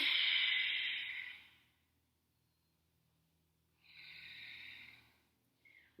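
Deep breathing during a yoga-Pilates stretch: a long loud exhale, a quiet pause, then another slower breath close to the microphone, ending with a brief sniff.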